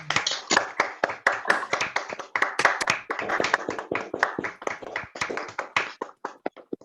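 Several people clap for a speaker at an online event, sharp irregular claps from a few participants, fairly close and clear, thinning out toward the end.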